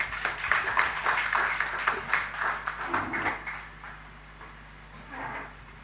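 A modest round of applause from the audience at a contract signing ceremony, scattered clapping that is fairly faint and thins out after a few seconds into a quiet room.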